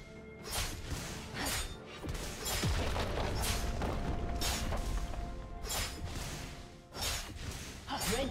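A turret is destroyed in League of Legends, with booming, crashing and shattering bursts layered over whooshes and ongoing loud game effects.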